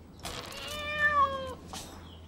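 A cat meows once in a drawn-out, clear call lasting about a second and a quarter, heard alone at moderate distance with a faint low hum beneath.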